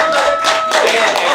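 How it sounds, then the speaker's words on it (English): Applause for a speaker at a writing session, close and loud clapping with whoops and cheering voices mixed in, a dense steady burst of crowd noise. "I want y'all to give her a round of applause"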